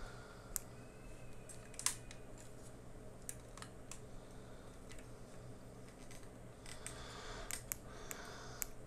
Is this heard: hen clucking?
no